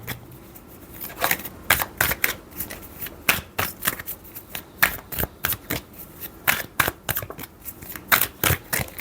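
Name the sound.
tarot cards being shuffled and drawn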